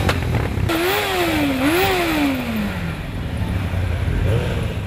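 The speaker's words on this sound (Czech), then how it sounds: "Zvuk jejich burácejících motorů se nesl hodně daleko." Motorcycle engines at a big rally roar close by, one bike revving up in rising and falling swoops that fade off, with more engines droning underneath.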